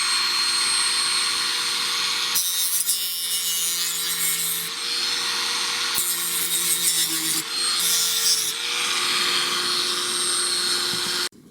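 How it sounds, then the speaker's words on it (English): A Dremel rotary tool shaves down the inner plastic shell of a Logitech G402 gaming mouse in a few loud, gritty grinding bursts, separated by the steady whine of the tool, with no talk. "I'm going to take a Dremel and then just shave down a little bit of that inside"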